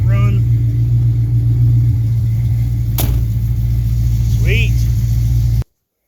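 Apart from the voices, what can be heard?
car engine idling after cold start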